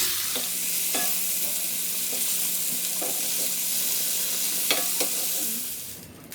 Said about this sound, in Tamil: உடையாமல் இருக்குதுங்கிறதுக்காக இதை கொஞ்சம் ஃப்ரை பண்ணிக்கிறோம்.